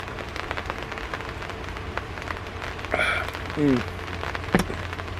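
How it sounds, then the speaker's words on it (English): Steady rain patters on a surface, with a few brief chirping sounds breaking through the light hiss. "It's raining a little bit harder now."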